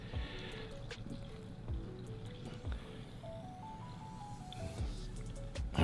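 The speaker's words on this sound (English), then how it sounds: "Next, what I'm going to do is I'm going to bottom water" Water trickles and splashes softly into a seedling tray for bottom watering, a quiet, continuous pour with faint drips and gurgles, fairly close but low in level.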